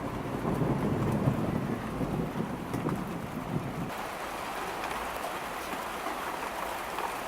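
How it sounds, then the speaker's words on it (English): Heavy rain pours steadily on surfaces outdoors, with a low rumble of thunder underneath during the first half before the downpour continues more evenly on its own. "Well, the rain came back."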